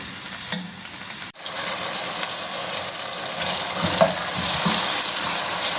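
Sliced onions browning in oil for chicken biryani, a loud steady sizzle close by, broken by a sharp knock and occasional stirring scrapes, with no speech.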